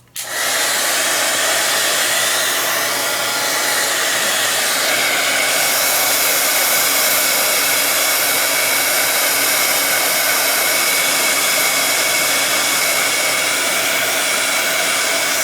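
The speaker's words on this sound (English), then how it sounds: "turn your sound off now while I use the heat gun here" A heat gun blows hot air while crafting in a December daily journal: a loud, steady whooshing roar that starts abruptly and runs unbroken to the end, with no talking.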